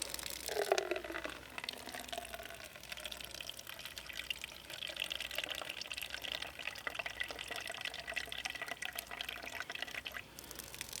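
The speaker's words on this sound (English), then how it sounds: "This is the output of the ram pump with a PVC drive pipe." Water pours steadily from the outlet of a hydraulic ram pump fitted with a PVC drive pipe, splashing into a measuring cup in a continuous, fairly quiet trickle with no talking.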